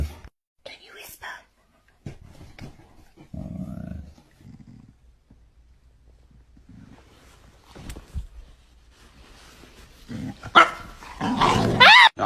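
A dog makes soft, breathy, whisper-like noises and low grumbles in a quiet room, with sparse bursts separated by near-silence, a person speaking gently between them, and a louder scuffle at the end.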